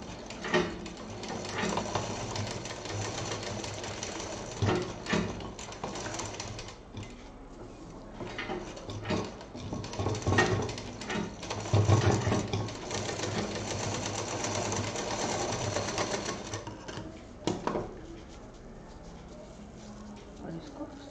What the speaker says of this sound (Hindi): डबल मशीन चलाते हुए।